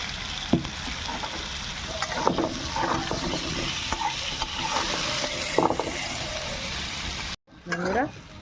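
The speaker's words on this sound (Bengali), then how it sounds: "আলুটা একটু তেলের মধ্যে নেড়ে চেড়ে নিই, নুন হলুদ দিয়ে একটু নেড়ে নিই।" Potatoes frying in oil with salt and turmeric, stirred in a kadai: a steady sizzle with intermittent scrapes and clatters of the spatula, ending with a sharp cut and a final burst of stirring.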